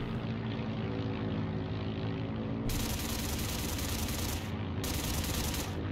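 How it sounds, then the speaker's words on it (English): Two propeller airplanes drone overhead in the Heroes & Generals video game, a steady engine hum swelling into loud broadband roaring bursts that cut off and return partway through. "Oh, there are two planes."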